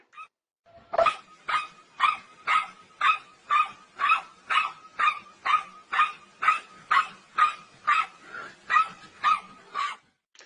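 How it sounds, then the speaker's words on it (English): A dog barks close and loud in an even, rhythmic series of about eighteen barks, one roughly every half second, with no other sound between them. "Bring that dog again here."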